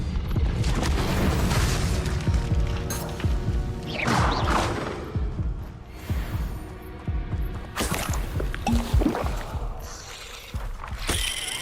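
Fire spells are cast in the video game Hogwarts Legacy, with repeated booming bursts and crackling whooshes over layered game effects and dense low rumble.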